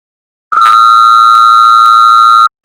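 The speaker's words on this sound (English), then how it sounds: "The phone." A telephone ringing, one steady electronic tone lasting about two seconds, loud and close in an otherwise silent room.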